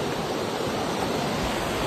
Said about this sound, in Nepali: हाम्रो घरदेखि अलि तलतिर यति ठुलो खोला छ